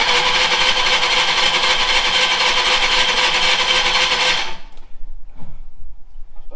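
Engine of a VW Scirocco Mk2 Tropic turning over and running, a loud, dense mechanical racket held for about four seconds before cutting off abruptly into near quiet with faint knocks.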